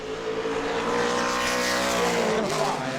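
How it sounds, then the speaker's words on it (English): A modified race car laps New Smyrna Speedway in qualifying, its engine a loud sustained high-revving drone with rising and shifting pitch as it runs through the corner, under race commentary. "So Gregory Crom in the 35, looking to pick up here on the second lap, struggling through the center of the corner"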